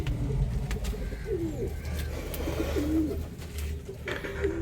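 Pigeons coo inside a pigeon loft, several soft rolling coos repeating close by over a low steady background hum.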